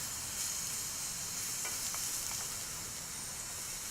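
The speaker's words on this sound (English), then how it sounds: "So I have a 1/2 pound of white mushrooms and a little bit of olive oil." White mushrooms cooking in olive oil give a steady, close sizzle that runs the whole way through, with a few faint stirring clicks. No one speaks.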